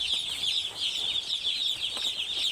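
A flock of chickens and newly arrived chicks on a poultry farm keeps up a continuous, dense chorus of high peeping and clucking. The sound is steady and close, with no talking.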